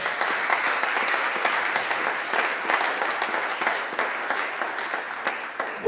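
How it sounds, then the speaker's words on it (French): A church congregation applauds for Jesus, steady dense clapping that carries on unbroken at moderate loudness, with no clear voices. "Est-ce qu'on peut lui donner des acclamations?"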